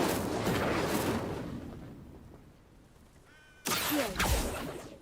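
The Incendio fire spell is cast in Hogwarts Legacy. A loud burst of flame sound fades out over a couple of seconds, and a second sharp, heavy blast follows, with a brief whistling tone just before it.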